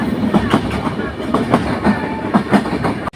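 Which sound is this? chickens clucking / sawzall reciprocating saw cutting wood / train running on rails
train running on rails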